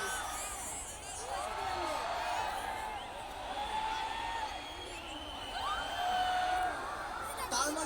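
A student festival crowd in Debidwar shouts together on cue, a steady, loud massed roar of many voices that swells and dips as different sections join in.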